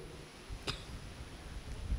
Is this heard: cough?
yes